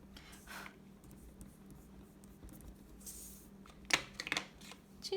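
Oil pastel rubbing and blending on paper, a soft scratchy swishing that comes in quiet strokes, with a few louder scrapes near the end.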